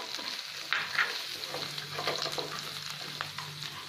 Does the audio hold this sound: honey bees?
no